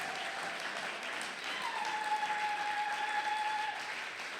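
A church congregation at a Sunday service of praise and thanksgiving breaks into sustained, dense applause that holds steady for several seconds, filling the room evenly with no speech over it.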